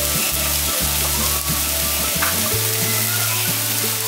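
Ground cumin fries in a pan with ginger paste for a red lentil and jute leaf dish, giving a steady moderate sizzle beneath a sustained low hum, with no talking.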